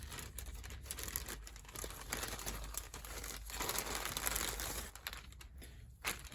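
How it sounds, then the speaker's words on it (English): Reebok face covers made of recyclable material being unwrapped from plastic packaging, with quiet close crinkling and rustling in irregular bursts, faint and alone. "let me put that away and take it out of the packaging"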